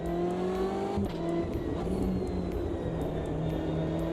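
A racing car in a racing video game changes gear with a small exhaust crackle. Its engine drones steady and loud throughout, with a brief break in pitch about a second in as the gear shifts.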